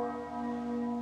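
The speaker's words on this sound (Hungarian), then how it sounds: "Valamivel 11 óra előtt megszólaltak a harangok" Church bells of a cathedral ring out before a bishop's consecration procession, sustained overlapping tones humming steadily and fairly loud throughout the brief moment with no talk.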